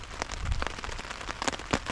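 Rain pattering on a tarp shelter stretched over a riverside bushcraft camp, a close, uneven patter of drops with occasional louder hits.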